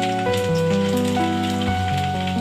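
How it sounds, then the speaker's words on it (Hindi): Garlic slivers frying in hot oil give off a steady, close sizzle that runs throughout, partly masked by tonal background music. "तेल हमारा गर्म हो चुका है, सबसे पहले हम देंगे लहसुन की तीलियाँ, जो ब्राउन होने तक फ्राई करेंगे इसके अंदर।"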